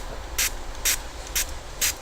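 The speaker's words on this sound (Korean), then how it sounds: "근데 스프레이 물이 가장 낫죠?" A hand spray bottle mists water onto homemade clay in four quick, even bursts, each a short, crisp hiss about half a second apart, close and clear over a quiet room.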